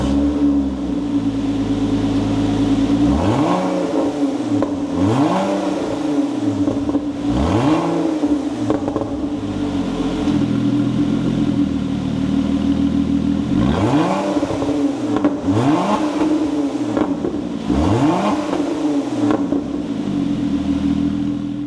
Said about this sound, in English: let me give you a startup of this car